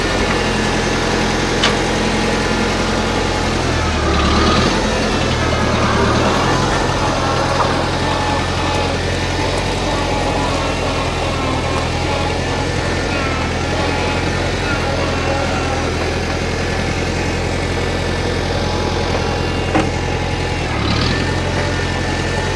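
An old 15-horsepower International Harvester Farmall Cub tractor engine idles steadily and close by, a low chugging drone that continues without a break.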